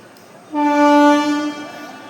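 The Sealdah–Lalgola passenger train sounds a single loud, sustained horn blast of about a second at Jiaganj station, close by, which then fades into the train's noise.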